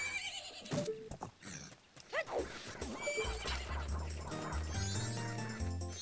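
A horse in Zelda: Majora's Mask (randomizer) whinnies loudly and then gallops, its rhythmic hoofbeats layered with game effects and music.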